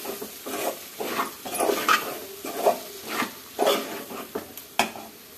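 Food fries in a pan on low heat while being stirred, giving soft repeated scraping and clinking strokes over a faint steady sizzle, close and moderately loud with no talking.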